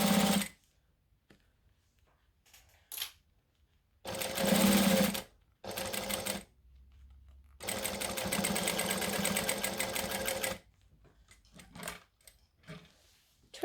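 A sewing machine stitches straps onto a garment in several separate bursts, short runs and one longer steady run with brief back stitches, close up, with quiet pauses between runs.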